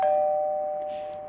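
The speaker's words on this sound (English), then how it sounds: "as the doorbell rang." A single doorbell chime rings out clearly and alone, a sustained tone that slowly fades over about a second in a quiet room.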